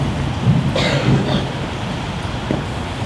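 Steady rain hisses throughout, with a soft rumble of distant thunder swelling briefly near the start.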